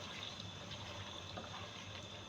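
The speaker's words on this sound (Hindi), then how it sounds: "और इसमें मैं शामिल करूँगी 1 प्याली पानी" A cup of water is poured into bhindi gosht cooking in a pot, a faint, steady wash of running liquid that holds evenly throughout with no talking.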